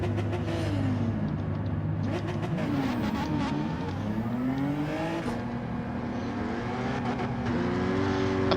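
Race cars in a Gran Turismo 7 Manufacturers Cup qualifying session roar continuously, engine notes rising and falling through gear changes, loud and close with no talk.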